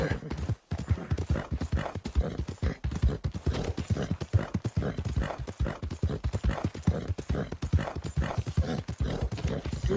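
Steady, rapid clip-clop of horse hooves trotting close by in the video game Red Dead Redemption 2, continuous and rhythmic throughout.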